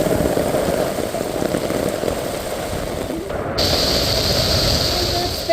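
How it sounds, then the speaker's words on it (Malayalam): Heavy rain pours down steadily in a loud, dense hiss of drops on surfaces, continuous throughout with a slight shift in tone partway; no talking stands out over it. "മഴ അതിശക്തമായി പെയ്തുകൊണ്ടിരിക്കുകയാണ് ഇവിടെ"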